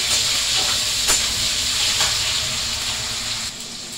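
Onion and tomato with a little salt frying in a hot pan, a steady close sizzle and hiss with a few faint stirring knocks, continuous and fairly loud.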